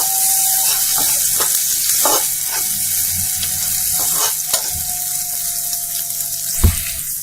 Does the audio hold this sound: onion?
yes